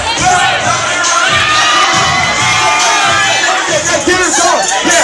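A large crowd at a hosted pageant-style event cheers, whoops and shouts continuously and loudly, with children's and adults' voices mixed in a dense, sustained roar.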